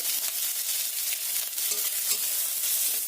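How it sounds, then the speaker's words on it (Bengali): Onions and chopped capsicum fry in a pan while being stirred, a continuous loud hiss of sizzling oil broken by soft scraping strokes of a spatula, close and steady without speech. "ক্যাপসিকাম কুচি দিয়ে ভালো করে নাড়িয়ে নেবো"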